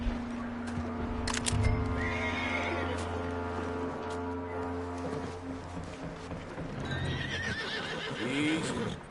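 A horse in the Red Dead Redemption 2 video game snorts and whinnies amid clopping hooves and game ambience, fairly close and steady across the scene.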